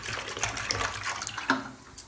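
About two glasses of water poured into a pot of Madugula halwa, giving a close, continuous splashing fill with a few sharper splashes and no voices.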